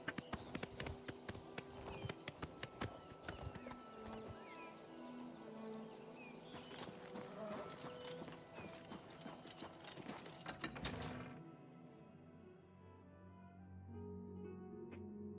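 Horse hooves clip-clopping in a video game, a rapid, regular run of sharp hoof beats close by, which stops abruptly partway through and gives way to quiet game ambience.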